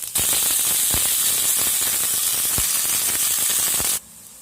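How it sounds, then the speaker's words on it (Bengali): Brinjal pieces hiss and crackle as they fry in hot mustard oil in a kadai, a steady loud sizzle with a few sharp pops, then it cuts off abruptly near the end. "প্রথমে বেগুনগুলোকে ভেজে নেব।"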